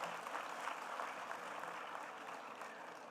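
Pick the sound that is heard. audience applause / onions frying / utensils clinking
audience applause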